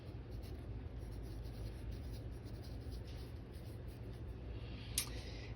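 A pen or pencil writes numbers for a math problem on paper, a faint soft scratching that continues steadily under a low background hum, with one slightly sharper stroke near the end.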